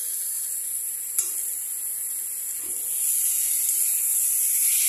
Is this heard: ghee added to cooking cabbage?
yes